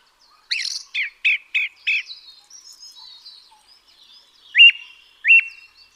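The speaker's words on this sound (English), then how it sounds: "The ring ouzel call is a lot less musical than that of the blackbird." Ring ouzel calling, a quick series of five harsh, repeated chacking notes, a pause, then two more loud single notes, clear against otherwise quiet surroundings.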